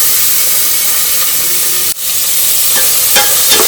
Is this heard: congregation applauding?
no